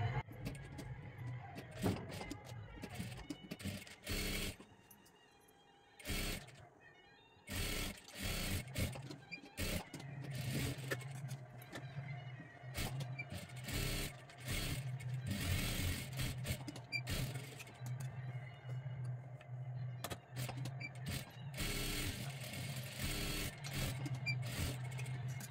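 Sewing machine stitching a blouse collar with a steady low motor hum in repeated runs, broken by sharp clicks and brief pauses as the fabric is adjusted, close and fairly loud.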